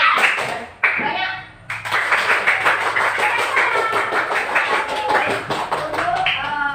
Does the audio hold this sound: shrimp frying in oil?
no